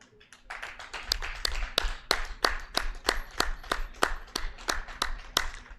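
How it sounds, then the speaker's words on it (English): Audience applause for Chef Anthony Jung at a cooking exam: sparse, distinct hand claps at a steady rhythm, fairly close and moderately loud, lasting several seconds with no talk over them. "Big, big, big round of applause for Chef Anthony Jung"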